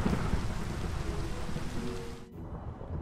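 Heavy rain hisses alongside a deep rumble of thunder in a Minecraft thunderstorm, a dense, loud wash of sound that drops off sharply near the end and leaves a fainter low rumble.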